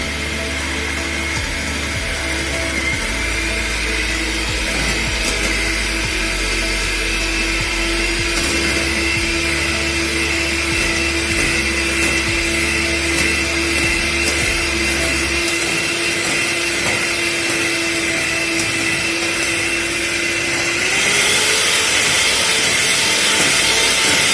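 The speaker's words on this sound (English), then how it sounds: "We will start beating it with the electrical beater, slowly adding caster sugar" An electric hand beater whips egg whites for a Japanese cheesecake, starting on its lowest speed. A steady, close motor whine runs unbroken with no talk, and its pitch rises near the end as the speed increases.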